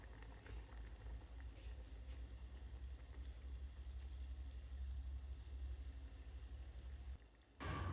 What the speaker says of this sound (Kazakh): Енді бұны қызып тұрған майда қуырып аламыз.